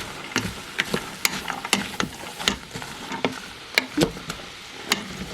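Vegetables and onion being stirred in a pot for potato soup, with a run of sharp scraping and clinking strokes in an irregular rhythm over a faint sizzle, close by and moderately loud.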